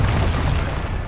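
A Bombarda explosion spell going off in the game Hogwarts Legacy: a loud, dense booming blast that rumbles steadily for about a second with no break.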